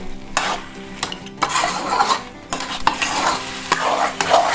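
Carrot halwa roasting in a pan while a spoon stirs it, giving a steady sizzle with repeated scraping strokes and soft clinks against the metal, close and fairly loud.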